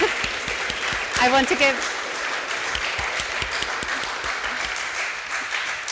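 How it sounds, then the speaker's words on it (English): An audience at a start-up accelerator event claps for a staff member. The steady, crowded applause continues throughout, and a voice briefly speaks over it. "So a big clap for David."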